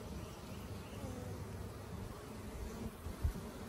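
Honey bees swarm during a colony relocation, filling the air with a constant, close buzzing drone and a faint thump near the end.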